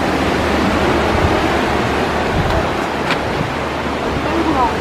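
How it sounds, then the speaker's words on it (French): Waves wash and break steadily around a pirogue near rocky shore, a broad continuous rush of surf and wind close by, with no clear speech. "Regardez ces vagues ici."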